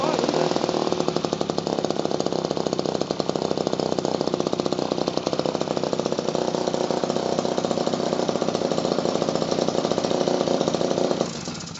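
A small petrol engine on a 3.5 inch gauge 2-4-2 model locomotive, carburettor sticking out the side, running steadily with a loud, rapid, even chatter close by for about eleven seconds before it cuts out at the end.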